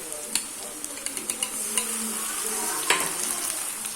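Onions with ginger-garlic paste and green chillies sizzling in a pan while a spoon taps and scrapes in a quick run of clicks, followed by a louder stirring scrape over the steady frying hiss.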